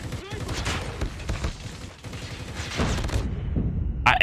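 Dense bursts of automatic gunfire from a Call of Duty Mobile match, loud and continuous with overlapping rapid shots and a brief pause near the end.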